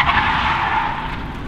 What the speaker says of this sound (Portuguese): Ele saiu cantando pneu com o carro.